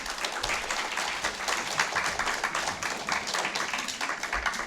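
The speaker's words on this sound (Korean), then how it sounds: "박수 한번 쳐주십시오" Audience applause at a church sermon or lecture hall gathering, a steady dense wash of many hands clapping continuously, fairly loud and sustained throughout with no voices over it.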